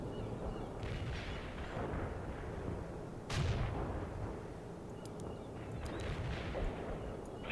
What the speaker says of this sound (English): The airstrike is on the way.